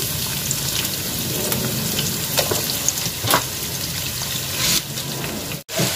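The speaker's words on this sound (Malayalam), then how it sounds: "അരിഞ്ഞു വെച്ച സവാള ഇട്ട് കൊടുക്കുകയാണ്" Chopped onions hiss and crackle steadily in hot oil in a pan for a spicy chicken roast, a close, continuous sizzle with a brief dip near the end and no talking.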